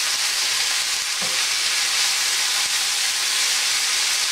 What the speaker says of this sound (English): And I'm just going to saute this, like I said, on a high heat real quick.